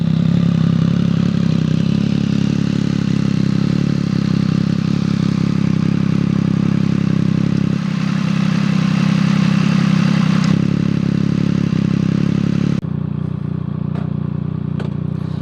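Triumph Speed Triple motorcycle engine running with its variable exhaust valve open, a steady loud close-up drone that shifts tone partway through and drops slightly near the end, with no talking.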